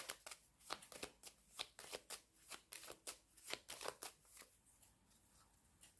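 Tarot cards are shuffled by hand for a reading, giving quick rhythmic riffling bursts, close and fairly soft, with no talking.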